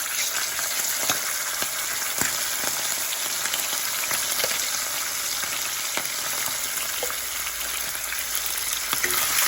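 Meat sizzles steadily in a generous amount of hot oil with turmeric and spices, a loud, close, continuous frying crackle with no talking.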